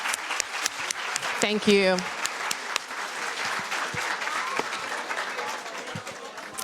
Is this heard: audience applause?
yes